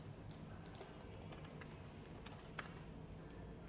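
Numbers are typed on a computer keyboard in quick, light keystrokes, irregular and close, quiet with no speech over them.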